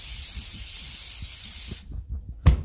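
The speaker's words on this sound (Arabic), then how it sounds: "ارش حبة زيت تحتها، حبة زيت عليها عشان ما تنشفش" Cooking oil is sprayed onto dough in a steady hiss that runs for nearly two seconds, then stops, followed by a short, sharper spritz and faint handling noises nearby.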